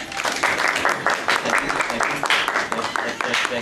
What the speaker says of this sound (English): Can I get a round of applause for the assistants?